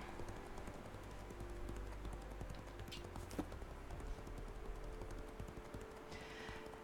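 Pack horses clip-clop steadily in the online game Legends of Aria, their hooves knocking in a continuous close rhythm over a low ambient drone, with a couple of brief brighter clicks in the middle.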